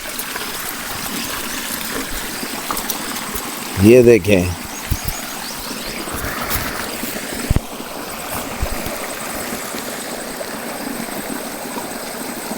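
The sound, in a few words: water flowing in a spring-fed stream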